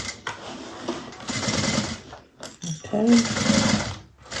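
Sewing machine back stitching over the seams of a Scottie Convertible Bag: bursts of rapid mechanical stitching close by, pausing briefly and then resuming, with a voice speaking a short word between runs.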